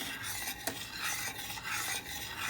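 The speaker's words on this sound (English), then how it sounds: "Then we're going to whisk it around." Whisking a sauce with brown sugar in a bowl gives a soft, continuous scraping swirl, quiet and close, with a couple of sharper clinks and no voices.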